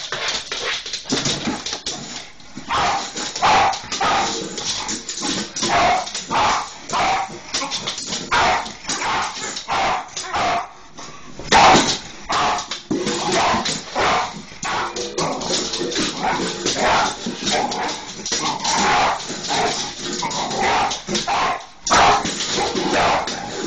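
A dog barks and whimpers in a dense, continuous run of yaps and whines for over twenty seconds, with a few close taps and little pause between the sounds.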